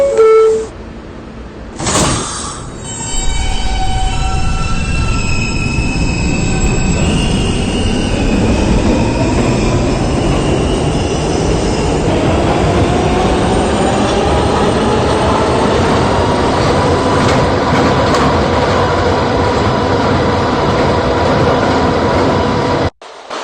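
An R160B subway car on the D line runs between stations, a brief chime or tone at the start giving way to a loud, steady rumble of wheels on rail with rising motor whine and occasional squeals, continuous throughout.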